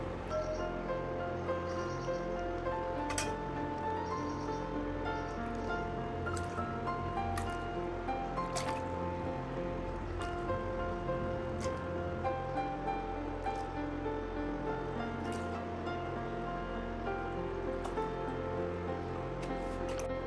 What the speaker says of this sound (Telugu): ఫస్ట్ నార్మల్ వాటర్లో వాష్ చేసుకున్నాక తర్వాత వాటర్లో కొంచెం సర్ఫ్ వేసుకుని వాష్ చేసుకుని